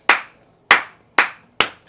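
Four sharp, close hand claps ring out alone in a clave-like pattern, with a short gap before the second clap and a tighter spacing for the last two.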